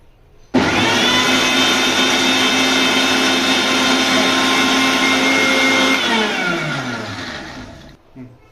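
A mixer grinder grinding flax seeds runs loud and steady for several seconds, then its motor pitch winds down and stops, followed by a brief clatter.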